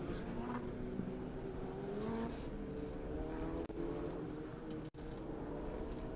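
Race cars on the NOLA SpeedTour road course in New Orleans come up to speed at the green flag, a steady loud engine drone with rising harmonic whines from several cars, heard at some distance throughout.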